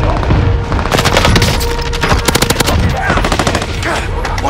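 Heavy, loud automatic gunfire from a Warzone match, sustained bursts and overlapping shots echoing for several seconds with booming impacts, close and dominant, with faint voices mixed underneath.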